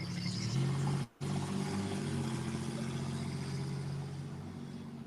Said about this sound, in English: tell me this damn Jeep don't sound like a fucking F-150